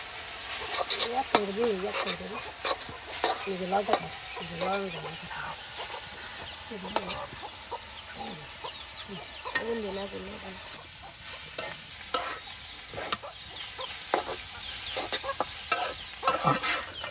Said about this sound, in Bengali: তেলের সাথে কিন্তু একদম আর ঝরঝরে ভেজে নেওয়া হচ্ছে